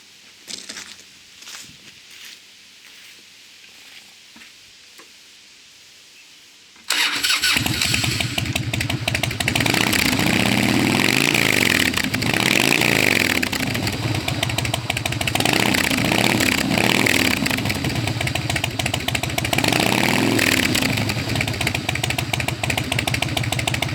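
A motorcycle engine cranks and fires up after quiet shuffling, then settles into a loud, throaty idle with occasional revs, close by.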